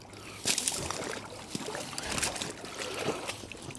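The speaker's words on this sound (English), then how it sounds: "You can hear the water coming through" Flood water at Potter Heigham, Norfolk, trickles and sloshes beneath frozen ice near flood barriers, giving soft gurgling and irregular splashy bursts with faint crunching, close up and fairly quiet.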